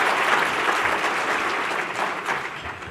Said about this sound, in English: Let's give Andy a big round of applause.